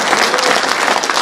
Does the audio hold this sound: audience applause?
yes